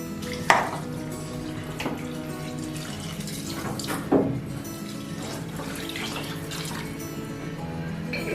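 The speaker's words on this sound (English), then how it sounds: "Add water." Water is poured into a pot of mutton harees with bay leaf, cinnamon and fennel, a steady close splashing and trickling stream with a couple of clunks of the vessel, and no talking.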